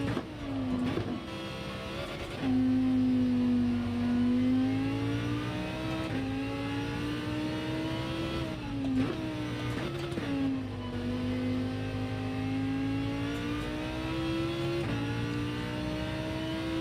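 A racing car laps the rain-soaked Red Bull Ring, its engine a close, droning whine that holds steady and then rises and dips in pitch as it shifts and accelerates, with no voices.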